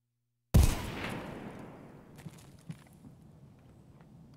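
A single sharp gunshot-like blast from a weapon in the video game Escape From Tarkov, with a long fading tail, then a few faint clicks and clacks of reload handling.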